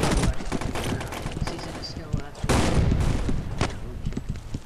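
Grenade launcher shots and blasts in the 2D shooter Boring Man, with several sharp booming bursts, one big one near the middle, layered over busy game noise and someone talking.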